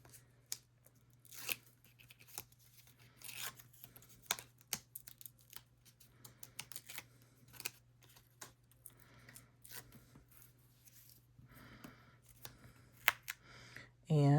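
Stickers peeled off by hand in a papercraft setting make quiet, scattered tearing and crackling bursts, close but faint, spread irregularly over several seconds under a low steady hum.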